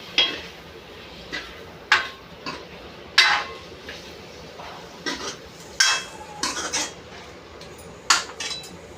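A spoon stirs drumstick pods with spices in a cooking pot for a spicy rassa curry, giving scattered sharp clinks and scrapes of metal against the pot at an irregular pace, close and fairly distinct over a low background hum.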